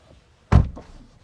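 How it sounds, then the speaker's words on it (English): A Porsche 718 Cayman GT4 RS car door shuts once with a single solid, close thunk followed by a brief rattle as it settles, then quiet. "and shut this door"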